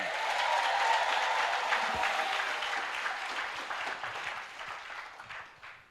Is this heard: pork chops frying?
no